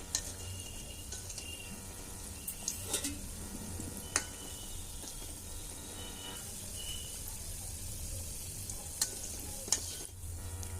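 Makkan peda dough balls, an Arcot sweet, fry gently in oil over low heat, making a quiet, even bubbling sizzle with occasional sharp pops and taps.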